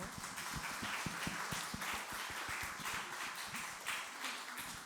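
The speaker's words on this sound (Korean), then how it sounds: "축복의 박수 부탁드립니다" A church congregation at a Sunday worship service gives quiet, scattered applause, with soft distinct claps spread steadily throughout at a low level in a large room.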